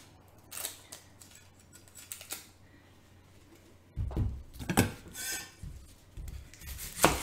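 An onion being peeled by hand, a quiet run of crackling, rubbing papery skin sounds that grows louder and busier partway through, close and with no talk.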